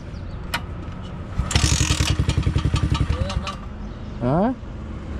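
A damaged motorcycle is restarted. A burst of rapid starter cranking catches into a running engine that settles to an idle, with a couple of brief vocal sounds near the end.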